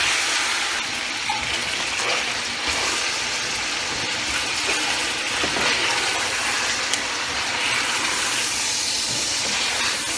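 Chicken pieces frying in a pot with ginger paste, a constant dense sizzling hiss with occasional pops and crackles, close and steady, no talk.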